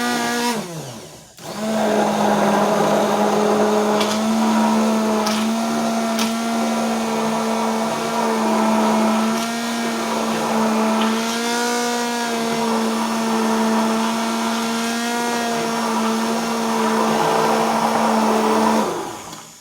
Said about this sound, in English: we're going to hit it with the stick blender